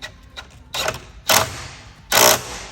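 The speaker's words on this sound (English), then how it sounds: "you can either use a socket or a spanner that's got a deep head on it" Socket wrench ratcheting down the battery tie-down nut on a Mk8 Ford Fiesta, heard as three short bursts of ratchet clicking with pauses between, close and fairly loud, no talking.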